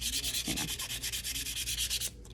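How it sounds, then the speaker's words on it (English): Rhythmic back-and-forth scraping of sandpaper on wood, about a dozen quick even strokes close up, then it stops. "So we have to push that back down with the sandpaper"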